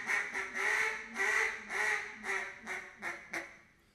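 A hand-blown duck call imitates a pleading, lonesome hen with a run of about nine nasal quacks, longer at first and then shorter and quicker, close and clear with no talking over it.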